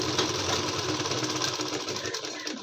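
A sewing machine stitching salwar fabric, running in a fast, even mechanical whir close by and alone, easing slightly toward the end.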